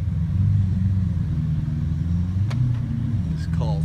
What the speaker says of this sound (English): A thoroughly enjoyable day with a very loud Aventador,